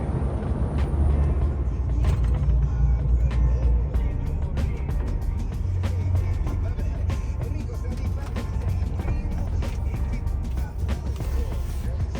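A truck rolls into a hypermarket parking lot, its heavy engine rumbling steadily and close throughout, with clicks and brief hisses over the continuous drone.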